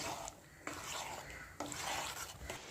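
A spoon scrapes and stirs jackfruit erissery curry with ground coconut paste and water in a pot, giving soft rasping, wet swishes in a few strokes, faint and close, no talk.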